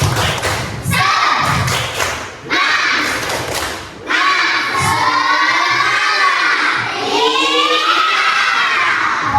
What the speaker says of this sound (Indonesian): Kita tepuk semangat dulu. Tepuk semangat woi.